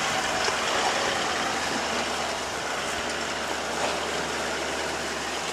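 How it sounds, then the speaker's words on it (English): A vehicle engine runs loud and close in a steady, unbroken drone for the whole stretch. No rise in pitch stands out, and no one speaks. "Increase the engine speed for me there."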